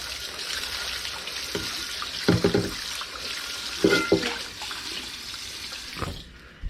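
Tap water runs steadily into a wok being rinsed in a kitchen sink, with splashing surges as the pan is swirled, close and continuous before cutting off at the end.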